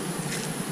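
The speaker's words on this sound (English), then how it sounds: "the bees finally did find their way back into their hive" Honey bees at a hive entrance fitted with a guard, giving a dense, continuous buzzing hum that is steady and close throughout the brief moment.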